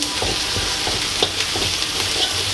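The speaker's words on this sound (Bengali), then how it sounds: "এই যে মশলা কষাচ্ছি" Spices fry in a pan with a dense, close hiss of sizzling oil, punctuated by light scraping and stirring strokes of a spatula.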